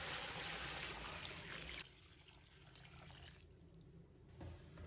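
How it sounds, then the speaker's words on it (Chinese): Clean water pours into a basin holding scraped asparagus, a full rushing stream for about two seconds that drops to a quieter, thinner trickle, faint overall with no voices. "把芦笋皮刮好之后，放入盆中，倒入清水"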